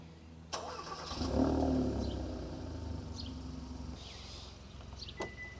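A Hyundai i30 (Elantra GT) fires up by key fob remote start: a sharp crank and catch, then a steady mid-pitched idle settling close by, with a few light clicks and a beep near the end.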